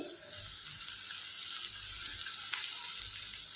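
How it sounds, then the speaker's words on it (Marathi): Thin slices of ginger fry in hot oil with onions for a Punjabi-style chicken curry, giving a steady soft sizzle with a few faint stirring scrapes. "आता ह्यात मी एक इंच आल्याचे बारीक काप करून घेतलेत ते घालते"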